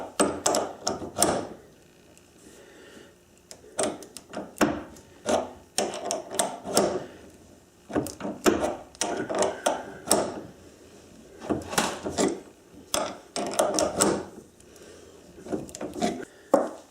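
Thread tap being turned by hand into metal for a collet rack, heard as close, irregular scraping and clicking bursts separated by short quiet gaps.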